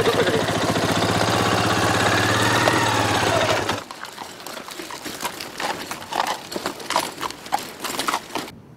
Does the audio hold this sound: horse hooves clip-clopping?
yes